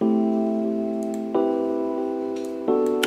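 Electric piano chords with reverb and EQ sound in slow succession, each struck and left to ring with a soft, reverberant tail, with faint ticking in the background.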